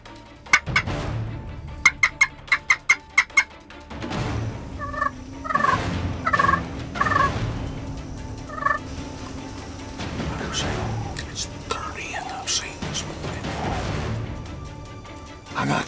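Wild Osceola turkey hens call outdoors during a bowhunt, with a burst of sharp repeated yelps followed by scattered clucks and calls at moderate distance and some quiet human sounds.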